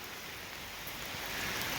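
Rain falls at an outdoor sawmill during work on white oak beams, a steady broad hiss that swells slightly toward the end, with no voices or machinery standing out.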